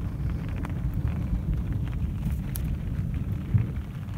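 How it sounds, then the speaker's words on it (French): Thunderstorm heard from inside a yurt: a steady low rumble of distant thunder and rain, moderately faint and continuous with a slight swell near the end. "C'est le premier orage dans la yourte."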